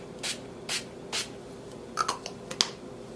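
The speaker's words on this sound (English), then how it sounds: "for setting spray, I'm going to use the Wet n Wild Photo Focus Natural Finish Setting Spray" Wet n Wild Photo Focus Natural Finish setting spray misted in three short, evenly spaced bursts close by, followed by a few small, sharp clicks.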